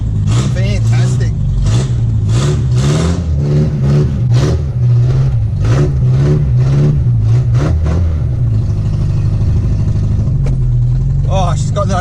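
A Datsun 1500 ute with a newly fitted clutch master cylinder is driven off, its engine revving loudly through rising and falling pulls. A voice speaks over the engine partway through.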